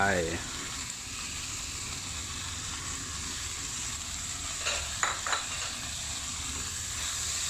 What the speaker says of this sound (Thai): แล้วก็ผัดคลุกเขาทั้งหมดให้เข้ากันเลยนะครับ